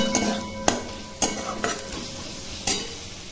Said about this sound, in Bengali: এখন ভালো করে মশলাটা নেড়ে নিচ্ছি